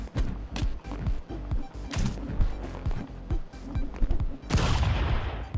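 Pistol shots ring out in Stick Fight, a stick-figure brawler, coming as a rapid string of sharp, punchy cracks at an uneven rhythm that ends in a louder, sustained noisy burst, with no talk over it.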